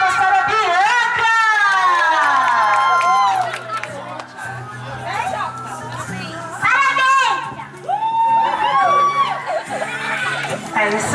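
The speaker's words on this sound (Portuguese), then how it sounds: "Uma salva de palmas para a Bianca!" Crowd at a loving birthday surprise celebration, children among them, cheering, whooping and shouting loudly and continuously, with voices calling out over the noise and a brief dip before the excitement swells again.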